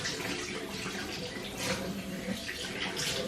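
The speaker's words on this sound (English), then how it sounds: "And now we're gonna rinse it off." Water runs steadily from a tap as a face mask is rinsed off, a continuous hiss close by with no talking over it.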